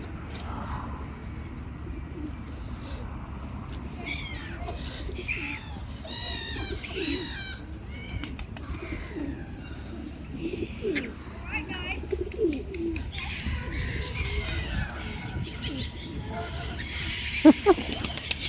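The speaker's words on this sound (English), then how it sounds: "There's loads of birds here." Ducks, geese and swans coo and call in a busy outdoor scene at a lake in the Lake District, with scattered chirps and honks and people talking faintly in the background.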